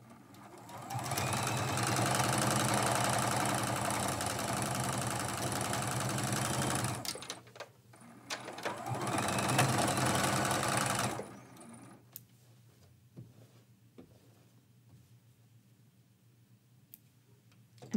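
A sewing machine runs steadily for a long stretch while stitching a quilt seam, stops, then whirs again for a few seconds before falling quiet into scattered soft clicks and handling sounds nearby.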